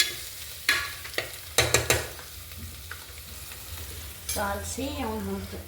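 Mutton frying with a pinch of turmeric in a pan, with a low sizzle under several sharp utensil clanks and stirring scrapes, followed by a brief voice at the end.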